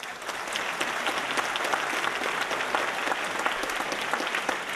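Audience in a hall applauding by show of support at a French-language talk, steady dense clapping throughout at moderate level with no voices over it.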